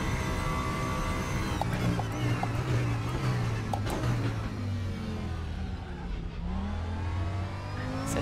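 A race car in RaceRoom accelerates hard out of a hairpin, its engine note climbing and revving loud and close, with a slight wavering of pitch as the tyres slip and a dip near the end.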